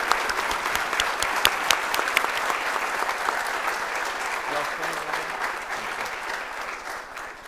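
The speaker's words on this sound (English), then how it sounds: "Give another round of applause for our 2022 Who's Who at the University of Tennessee at Martin" Steady, full audience applause at a university student awards ceremony for Who's Who honorees, many hands clapping continuously with crisp individual claps standing out, fading slightly toward the end.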